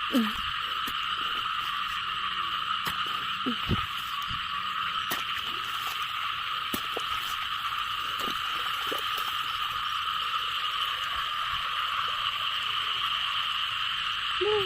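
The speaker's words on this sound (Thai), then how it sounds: "เสียงกบ เสียงเขียด พี่น้องได้ยินบ้า" Frogs croaking outdoors in the morning after a night of rain, with repeated calls over a steady, dense chorus of insects or frogs and faint voices in the background.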